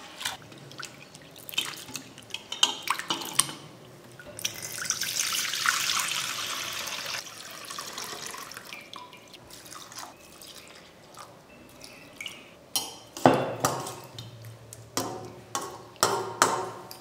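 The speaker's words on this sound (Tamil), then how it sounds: "இந்த அவலை 2 முறை கழுவிட்டு தண்ணியெல்லாம் வடிச்சிட்டு கொஞ்சமா தேங்காய் பால் சேர்த்து நம்ம ஊற வச்சு எடுத்துக்க போறோம்" Thick flattened rice (aval) washed in water and drained, with splashing, trickling and dripping water, a long surge of running water in the middle and scattered clinks of a vessel near the end.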